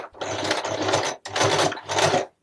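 A sewing machine stitches a collar on a refashioned men's shirt in three close, loud bursts, each separated by a brief pause.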